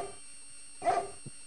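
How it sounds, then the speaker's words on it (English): A dogwood tree in the King's Quest VI video game gives one sharp, close bark like a dog, followed by a short low yip, against a quiet game background. "Down, dog, down!"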